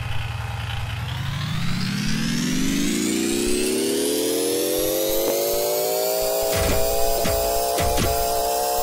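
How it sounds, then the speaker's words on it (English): A homemade radial piston engine idles then revs up steadily with a rising buzzy drone, with a few sharp knocking clicks of rod knock toward the end. "There's a little bit of rod knock"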